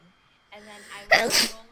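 A single sharp human sneeze bursts out loudly and close, following a brief stretch of casual speech, during a game chat among friends.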